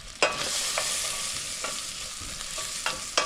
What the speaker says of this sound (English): Get the onions and the shallots coated with butter.